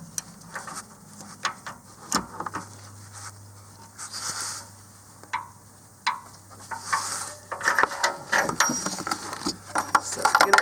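A socket ratchet turns with faint close clicking to tighten an upstream O2 sensor on a 2017+ Nissan Rogue Sport, with scattered metallic handling knocks that get busier toward the end.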